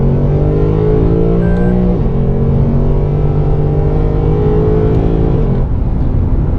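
A 2018 Lexus RC F with a 477 hp engine accelerating hard in sport mode, its loud, steady engine drone climbing in pitch with quick gear-shift dips around two and five-and-a-half seconds, heard from inside the cabin with no talk.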